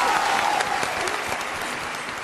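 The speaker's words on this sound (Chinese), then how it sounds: "来，掌声给曹晶点鼓励" A studio audience at a televised dating show claps in dense, steady applause that stays strong, then eases slightly toward the end.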